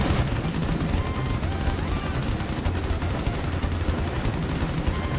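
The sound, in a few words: gunfire in a video game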